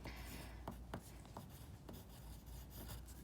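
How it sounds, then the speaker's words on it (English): A pen or pencil writes a name on paper, giving a close, quiet scratching and rubbing with small taps between strokes. "I'm gonna go ahead and write my name on my paper first"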